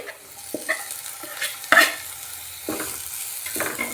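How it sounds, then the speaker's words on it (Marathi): Sliced cabbage, capsicum and tomato stir-frying for leftover-rice fried rice, a continuous hiss of frying under repeated spatula scrapes and knocks against the pan at uneven intervals, close, with no speech. "याला छान मिक्स करून घेऊयात या भाज्या छान शिजण्यासाठी"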